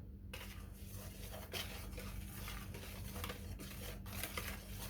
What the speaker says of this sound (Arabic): غادي نخلط هاد النواشف هي الاولى